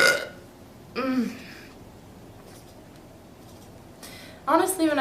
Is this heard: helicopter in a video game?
no